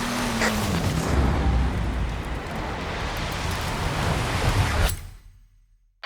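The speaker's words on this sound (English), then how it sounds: "And it's raining." Rain in the racing video game Forza Horizon 5: a broad, steady hiss of rainfall, loud and continuous for about five seconds before cutting off abruptly, with no talking.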